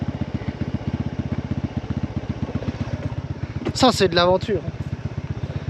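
A scooter rides a rough mountain road near Pokhara, its small engine putting out a steady, rapid putter close by throughout, while someone speaks briefly over it.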